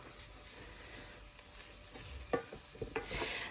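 Ground beef and flour browning in a pan for cottage pie, giving a faint, steady sizzle with a few sharper stirring scrapes and clicks toward the end.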